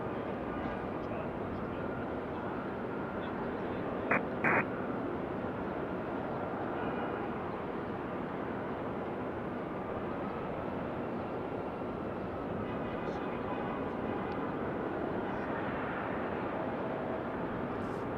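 An American Airlines Boeing 737-800 taxis at Raleigh-Durham International, a steady, broad jet engine rumble that holds at a constant level throughout, with a couple of brief clicks near the start.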